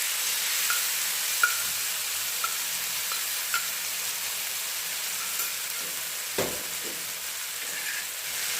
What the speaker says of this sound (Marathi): तेल गरम झालं की आपल्याला त्यात वाटलेला ठेचा घालायचा आहे